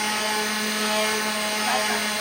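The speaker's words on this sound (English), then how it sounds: "A little bit of final sanding" A power sander works steadily across a wooden coffee organizer, giving one unbroken, loud, broadband whirring hiss with a faint tonal hum and no pauses.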